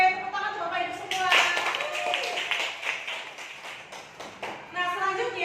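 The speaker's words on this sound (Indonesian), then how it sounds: "Oke, tepuk tangan untuk Bapak Ibu semua." Audience of teachers clapping hands at a school training session, a brief burst of claps rising then thinning out, with speech heard around it.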